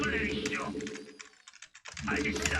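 Rapid clicking of a mechanical keyboard being typed on, steady and close, running under Korean speech through most of the stretch with a short quieter gap near the middle.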